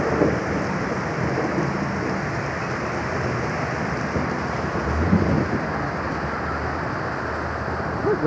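Heavy rain pours steadily in a dense, continuous hiss close by, with low rumbling thunder rolling underneath, loudest around the middle and lasting throughout.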